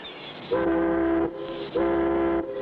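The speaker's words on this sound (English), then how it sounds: "Give her 2 more short blasts, Spinner, to let the other fishermen know we're going out." Two short steady boat whistle blasts about a second each with a brief pause between, a deep tonal whistle over a low rumbling background.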